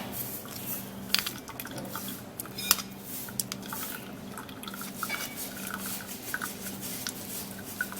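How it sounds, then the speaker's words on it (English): Lettuce leaf juice trickles through a strainer into green tea, a faint, close patter of drips and small liquid splashes running steadily throughout. "I'll get a strainer and then strain the lettuce leaf into the green tea."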